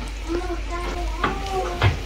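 Cabbage cooking in a pan on a nearly empty gas stove, a soft sizzle with a few stirring scrapes under faint background voices, brief and close.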